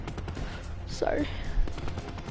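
Gunfire in Call of Duty Black Ops 4 from a weapon with heavy recoil: a short burst rings out mid-clip over a busy game mix, with a voice talking throughout.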